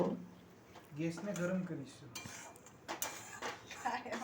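Metal spoon scraping and clinking in a pan while stirring semolina halva, a series of soft irregular scrapes and taps close by, with someone talking throughout.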